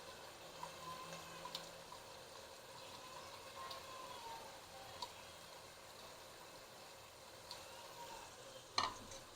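Tomatoes fry with spices for a potato and egg curry, making a faint, steady low sizzle with soft stirring scrapes and a sharper clink near the end.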